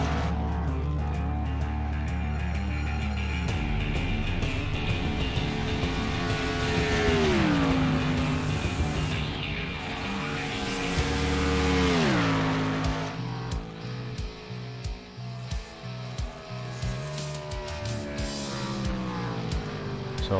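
A NASCAR race car on a qualifying lap at Texas screams past in high-pitched engine roars with sharp Doppler drops, its revs sweeping up and down as it laps. Commentary is heard faintly.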